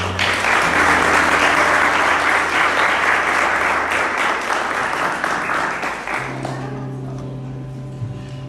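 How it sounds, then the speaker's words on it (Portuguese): A congregation at a Catholic sermon breaks into loud, sustained applause that fills the room for about six seconds, then fades and gives way to a quieter sustained tone. "Você poderia ter aplaudido agora."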